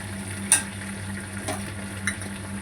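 Pointed gourd peels frying with garlic cloves in a pan, a low steady sizzle broken by a few sharp clinks of a utensil stirring against the metal, with a faint hum underneath.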